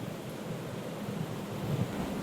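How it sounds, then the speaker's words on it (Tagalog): A river flows past a farm camping site among fruit trees, giving a steady, broad rushing wash of water that holds level throughout with no talk. "Ang maririnig po ay lagaslas ng ilog."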